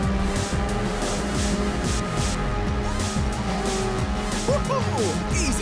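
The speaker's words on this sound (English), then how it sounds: "here comes some crazy nitrous" Ridge Racer 6 video game race under nitrous boost, a loud continuous engine roar with shifting revs and intermittent tire squeals and skids, dense and close throughout.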